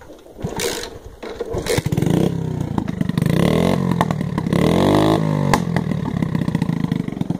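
A Shineray motorcycle engine starts and runs loudly up close, revving and rising in pitch in steady surges over several seconds with no talking.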